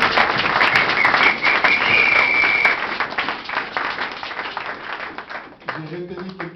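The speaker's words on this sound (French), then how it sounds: "Acclamons encore pour le Seigneur." A church congregation applauds for the Lord with loud, dense clapping and voices mixed in, then the applause thins and fades toward the end as music starts.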